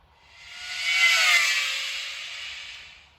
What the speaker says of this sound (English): that is the default startup sound that these things used when they were new